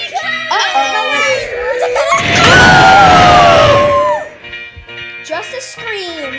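A loud, sustained scream rises and holds for about two seconds, sliding downward in pitch, set among excited talk and shouting before and after.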